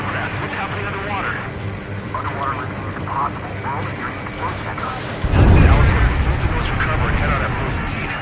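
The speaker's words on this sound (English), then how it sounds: "A huge explosion just went off underwater." Underwater explosion in Ace Combat 7: Skies Unknown, a sudden heavy low boom swelling midway and rumbling on under aircraft drone and radio voice chatter.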